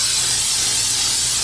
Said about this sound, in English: we are going to spray it with a little bit of this olive oil